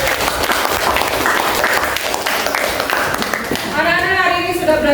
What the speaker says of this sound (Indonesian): Kita beri tepuk tangan untuk diri kita sendiri.